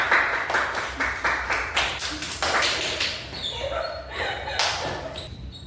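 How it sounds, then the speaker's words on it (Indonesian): Classroom applause from a group of students, a burst of many hands clapping with sharp taps, mixed with scattered children's voices and small yelps, fairly close and lively. "Beri tepuk tangan dulu."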